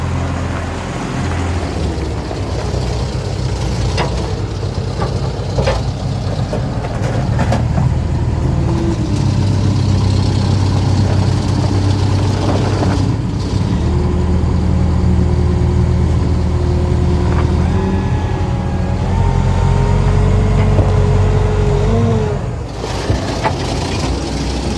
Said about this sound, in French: il utilise un tracteur avec une fourche et des pics